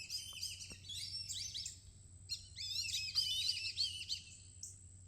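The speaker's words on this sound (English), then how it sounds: "You have tons of birds flying around." Many birds chirp and tweet at a river corridor nature preserve, overlapping bursts of bright calls over a low steady hum, fairly distant and continuous with a brief pause midway.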